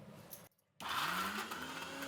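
A kitchen mixer grinder whirs loudly as it grinds batter for burelu, a short start, a brief pause, then a steady continuous motor hum that carries to the end.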